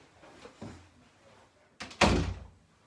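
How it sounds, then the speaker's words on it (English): An indoor door is pushed shut, with a soft thud of movement followed by a loud, close slam and a short fading rumble. "I'm going to close my door."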